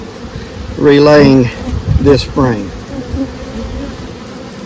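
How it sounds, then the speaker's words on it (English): Honey bees buzz densely and steadily around the frames of a small swarm hive, close and loud, while a person speaks briefly over the hum. "worker bees, field bees coming back"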